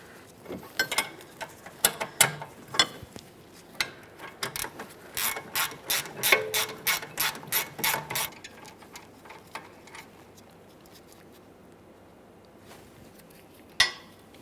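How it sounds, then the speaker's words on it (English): Wrench ratcheting a brake caliper mounting bolt on a 2009-2014 Nissan Maxima, a quick series of sharp close clicks in bursts, then fading to quiet with a single last knock. "so I'm continuing on with a wrench"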